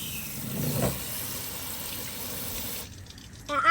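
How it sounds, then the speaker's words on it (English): Tap water runs steadily over a toy monster truck as it is rinsed, a continuous close splashing gush that stops abruptly near the end. "I'm gonna give it a little rinse."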